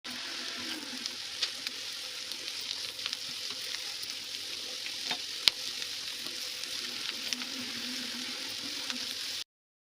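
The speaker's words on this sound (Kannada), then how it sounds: "ತೊಂಡೆಕಾಯಿ ಫ್ರೈ ಮಾಡಿರೋದನ್ನ ಹಾಕೊಳ್ತಾ ಇದ್ದೀನಿ ಇದು ಚೆನ್ನಾಗಿ ಫ್ರೈ ಆಗಲಿ" Ivy gourd frying in a pan, a soft continuous sizzle with scattered small pops and a faint sharp click, fairly quiet throughout.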